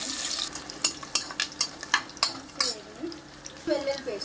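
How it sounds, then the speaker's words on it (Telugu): Cashews and green chillies frying in a pan, a spatula scraping and clattering in a rapid series of sharp strokes over a steady sizzle, close and fairly loud, with brief talking near the end. "వేగనిద్దాం ఫ్రెండ్స్"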